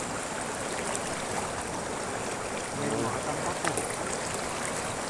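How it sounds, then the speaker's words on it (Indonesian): River stream flowing steadily as broadband rushing water, a continuous near wash with a brief splashy swell midway, heard alone without talk. "harus melalui aliran sungai ini."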